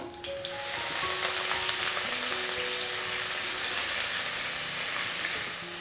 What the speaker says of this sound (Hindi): अब इसमें डालेंगे 2 कटा हुआ हरी मिर्च और इसको सौटे कर लेंगे